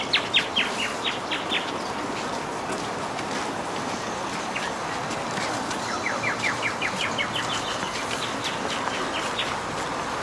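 A boy blowing a whistle held in his mouth to imitate a bird, in Leningrad, producing bursts of rapid high chirping trills, a cluster at the start and another midway, over steady background noise.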